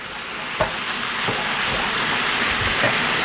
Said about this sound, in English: I'm going to cook this until the onions are just about translucent.